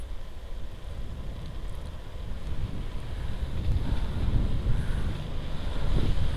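Steady rushing wind noise from riding a bicycle into a headwind on flat ground under cloudy skies, a loud low roar buffeting the microphone and building slightly toward the end, with no talking.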